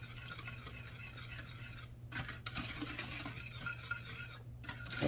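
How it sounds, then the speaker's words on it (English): A whisk beats a ketchup-based sauce for smoked Caribbean ribs in a bowl, making a fast, steady rattling swish that goes on without a break, with a brief pause or two and no voices. "I'm gonna stir this up. Just whisk it all together."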